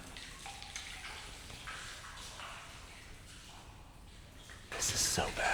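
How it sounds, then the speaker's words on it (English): A person wades and splashes through shallow water inside a cave, with soft intermittent sloshing that echoes faintly and swells into a louder splash near the end. "And Wyatt splashing"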